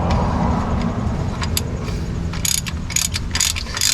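A ratchet clicks in quick, sharp bursts while gauges are installed in a car, the close metallic ticks cutting over a steady background hum.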